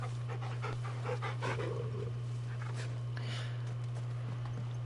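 Torgal, an ice wolf in Final Fantasy XVI, pants close by in short rhythmic breaths over a steady low game hum, with soft footstep-like taps around him.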